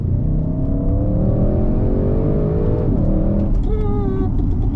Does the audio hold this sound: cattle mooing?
no